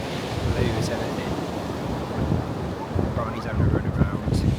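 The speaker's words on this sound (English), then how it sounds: "The wind's biting, the sea's just blue as anything." Biting wind buffets the microphone while sea waves wash onto a cold winter beach in Scotland, a rough, gusty roar with surges of surf; faint voices are heard in the background.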